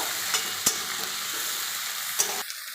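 Fish curry with added potatoes fries in a pan, a constant loud sizzle punctuated by a few sharp scrapes and knocks of the stirring utensil, then the hiss drops off abruptly at the end.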